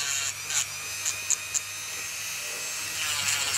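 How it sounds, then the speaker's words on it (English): A small rotary tool spins a sandpaper drum on a rubber disc against a fishing lure, giving a steady high whine that is broken by a few brief louder bursts as the drum bites into the lure. "It's a little drum of sandpaper on a little rubber disc, isn't it?"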